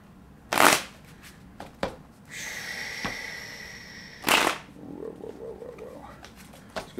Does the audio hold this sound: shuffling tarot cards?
yes